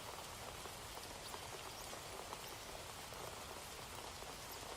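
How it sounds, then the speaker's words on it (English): Steady rain falls throughout as a dense ambient bed of soft pattering on a surface, constant and fairly loud with no voices over it. "Through the sound of the rain"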